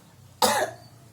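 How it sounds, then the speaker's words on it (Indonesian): A male patient gives one short, sharp cough when asked during a hernia examination in a clinical setting, a single moderately loud burst against a quiet room. "Silakan Bapak untuk batuk terlebih dahulu."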